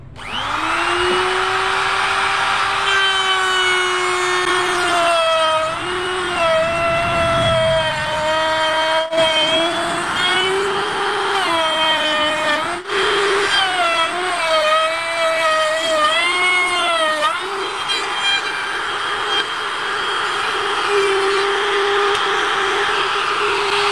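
A Mollar 3-in-1 trimmer mini router cuts a mortise hole in wood, a loud steady high-pitched motor whine that dips and rises in pitch as the bit bites and eases, running continuously throughout.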